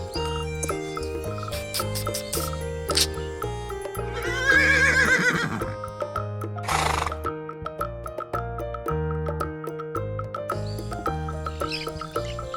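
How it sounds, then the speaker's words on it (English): A horse neighs amid a toy animal sequence, a bright whinny burst over a steady background music track, followed by a shorter squeaky call and tinkling sounds. "This is horse."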